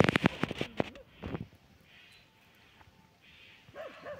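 A dog barks and yips in a quick burst of several sharp calls at the start, then falls quiet before a few fainter whimpering yelps near the end, heard outdoors at a rural spot near a forest track where cars pass.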